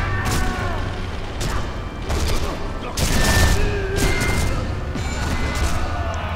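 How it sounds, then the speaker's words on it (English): Gunfire and explosive booms from the World War II sniper game Sniper Elite V2 during a co-op mission, with repeated heavy shots and crashes in bursts, loud and close, mixed with game noise. "Can you hear how many pinging headshots?"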